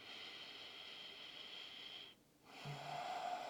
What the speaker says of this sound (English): Deep nasal breathing if you can.